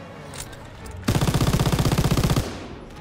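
Machine gun fire in the Call of Duty WWII video game, a loud, close, rapid burst of evenly spaced shots lasting over a second, starting abruptly after quieter game ambience and trailing off into it.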